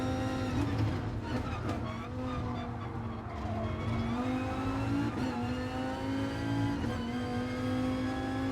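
An Audi race car in Gran Turismo accelerates with a steady, buzzing engine note that climbs in pitch, and faint tire squeal runs underneath throughout.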